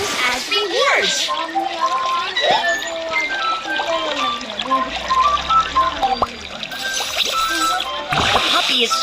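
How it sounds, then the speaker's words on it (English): Water pours and trickles into a bathtub in a cartoon puppy-care mobile game, a steady splashing stream under cheerful game music and chimes. "Tap the item to make the water flow into the bathtub."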